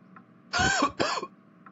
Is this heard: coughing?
yes